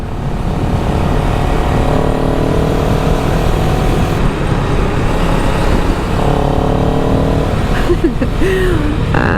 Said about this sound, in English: The exhaust note is interesting.